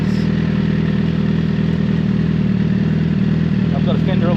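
Suzuki GSX-R1000 L4 sport bike fitted with a Yoshimura slip-on exhaust, its engine holding a steady, close and loud drone throughout while someone talks over it.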